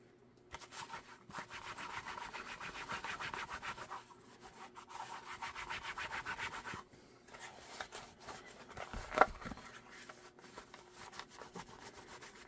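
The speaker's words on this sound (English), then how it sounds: "Little rub down of our final shape here." An On Target holster mold for an S&W 10mm Performance Center gets a hand rub-down with sandpaper, steady close scratchy strokes in long bursts with short pauses and a single sharp knock near the end.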